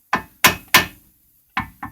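A hammer strikes the lower control arm of a 1979 Corvette in five sharp metallic blows, three in quick succession, a pause, then two more, loud and close.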